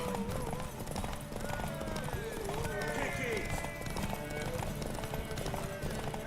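Horse hooves gallop in The Witcher 3: Wild Hunt, a steady rolling clip-clop running the whole time beneath game music and voices talking over it.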